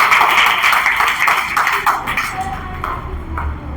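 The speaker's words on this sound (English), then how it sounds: "Yes, clap for this girl." A group of children claps for a girl, a dense burst of applause that is loud at first and thins out after about two seconds.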